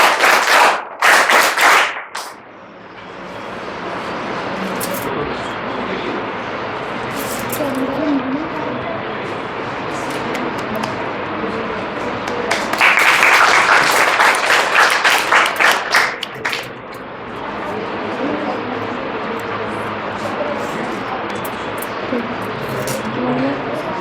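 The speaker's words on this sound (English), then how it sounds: "So guys, claps." An audience at a Teachers' Day function claps during a portrait garlanding ceremony: bursts of applause at the start and in the middle, separated by quieter stretches of room murmur, with traffic noise faintly in the background.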